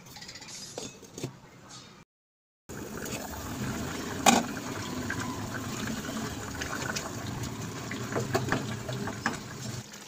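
Water is poured into a pot of braised chicken curry with green chilies, a soft steady gush after a short pause, with one sharp metallic clink partway through.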